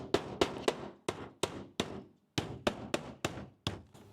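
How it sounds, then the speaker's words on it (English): Hammer blows drive a nail into vinyl shake siding on a gable end over foam backing, about a dozen sharp knocks in two quick bursts separated by a short pause, close and crisp. "So we'll put my nail in there, because I've got foam, I can push it in somewhat and nail it."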